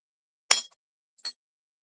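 A beer glass clinks twice as it is picked up and handled: a sharp, close glassy clink, a short pause, then a lighter second one, with silence around both.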